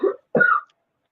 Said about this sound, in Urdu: کھانسی آ رہی